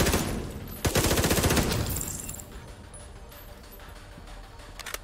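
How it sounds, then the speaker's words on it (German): Automatic gunfire bursts in The Division 2, a loud rapid volley near the start that fades into scattered distant shots and low game ambience. "Waren das Schüsse?"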